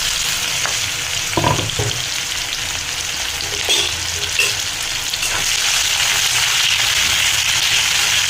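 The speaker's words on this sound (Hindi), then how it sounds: "कटा हेतिबा पियाज पके दबा।" Chopped onions sizzle in hot oil with cumin, cinnamon and bay leaf for a mutton curry, a steady loud frying hiss with occasional stirring clatters and pops.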